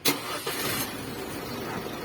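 A 2022 Isuzu D-Max pickup truck engine auto-starts by remote push-start smart key: it cranks and catches after a brief click, then settles into a steady idle nearby.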